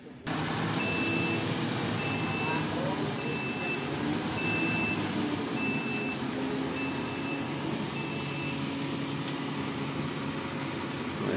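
A UD Quester truck on the road, a loud steady engine drone and road rumble running throughout, with a regular repeating beep sounding over it for much of the time.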